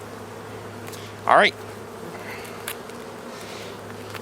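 Honey bees buzzing around a hive frame during a honey harvest, a low steady hum with one loud, close bee whizzing past the microphone, and a brief word spoken.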